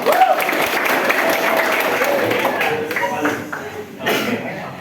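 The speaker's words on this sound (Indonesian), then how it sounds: "Tepuk tangan" Students in a light vehicle engineering classroom clap together, a short burst of applause mixed with voices and a bit of laughter, dropping off and picking up again briefly.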